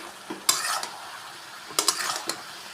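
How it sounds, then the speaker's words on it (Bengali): Goat meat with onion, garlic, turmeric, chili and ginger being stir-fried in mustard oil, with two bursts of spatula scraping and clatter against the pot over a low steady sizzle, no voices. "এখন আমাদের কষানি চলতেছে"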